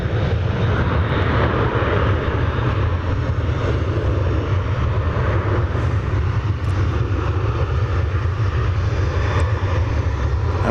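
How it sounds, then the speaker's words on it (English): An American Airlines Boeing 737-800 takes off from DFW Airport, a loud, steady jet roar with deep rumble holding for about eleven seconds, alone with no voices. "American Flight 1331 to Santa Ana taking off at 737-800."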